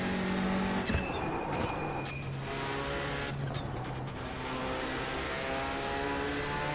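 Race car engines in a Le Mans Ultimate / iRacing sim race with a Honda Civic Type R and a Veloster nearby, engines whining through gear changes with sharp tonal shifts and brief tyre squeal, loud and continuous, no talk.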